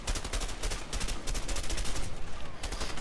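Rapid automatic gunfire in the co-op video game A Way Out, a dense continuous string of close, sharp shots with no pauses.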